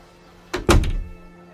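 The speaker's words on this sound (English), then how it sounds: "And the woman closed the door." A door swings shut with a solid thunk, a quick double impact followed by a short fading resonance against a quiet background.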